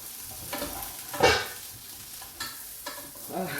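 Chicken nuggets frying in a pan, a soft continuous sizzle broken by a few close scraping stirs of a utensil, with no talk.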